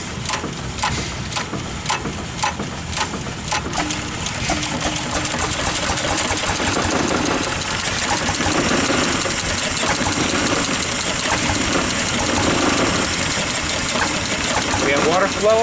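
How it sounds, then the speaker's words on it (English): An antique generator engine powering a carbon arc lamp from 1900 starts and settles into a steady, rapid mechanical chugging and knocking, loud and close, with people talking over it. "So let's go ahead and start the engine."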